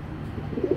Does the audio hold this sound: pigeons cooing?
yes